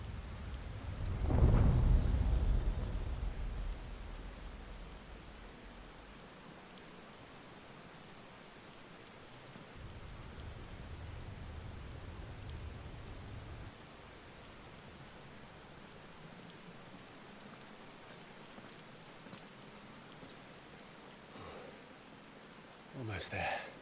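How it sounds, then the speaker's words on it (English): Steady broadband hiss of rainfall in the video game Final Fantasy XVI runs throughout, with a low rumble at the start and a brief swell midway; no voices. "Of course it would be raining."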